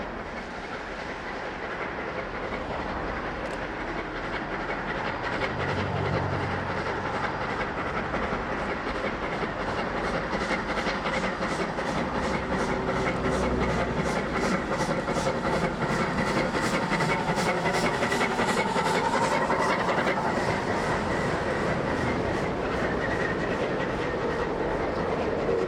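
Train rolling through Palmerston North Yard on a shuttle run to Feilding, a sustained loud rumble with rhythmic clickety-clack of wheels over rail joints, close by and continuous with no voices.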